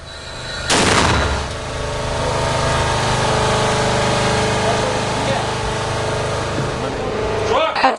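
A mortar fired by a Ukrainian crew of the 59th Brigade lets out one sharp, loud blast early on, followed by a long rumbling echo and steady engine-like background noise out in the field.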